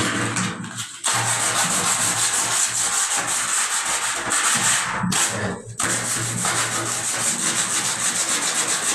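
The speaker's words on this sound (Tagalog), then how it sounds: "Lihain natin." Sandpaper scrapes steadily across wood up close while patching a leaking water tank, a loud continuous rasping that breaks off briefly twice before resuming.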